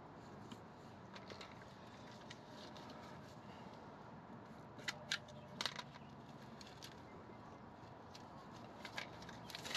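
Wire cutters snip the end off a wire while tracing a CCM fault on a 2018 Chevy Express, heard as a few faint, sharp clicks over a low, steady background hiss.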